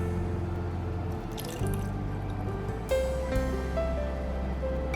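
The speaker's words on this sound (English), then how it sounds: "And then pour some hot water into the cup." Hot water trickles and drips into a cup holding a green tea bag, a steady liquid pour over a constant background hum.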